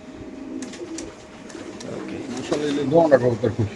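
Racer pigeons cooing inside a loft, soft throaty coos rising toward the end, with someone talking over them.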